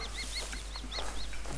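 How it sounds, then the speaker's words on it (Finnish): A chicken clucks in the hunting game theHunter on the Hirschfelden map: a run of short, repeated chirpy clucks at a steady pace, fairly near, over a low constant background hum with no talking. "Mitäs muuta täällä olisi? Kanaa,"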